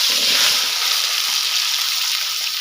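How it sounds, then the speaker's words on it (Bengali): Potatoes fry in hot oil for a mutton curry, a dense, loud, continuous sizzle held close throughout with no talking. "মাটন কারি রান্না করার জন্য আলুটা ভাজে নিই।"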